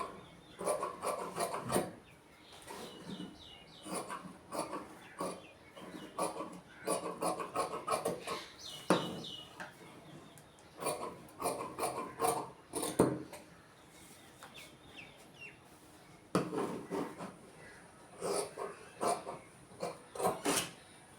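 Scissors cut through blouse fabric in a run of quick rasping snips and rubs, close and fairly quiet, in repeated bursts with short pauses between them.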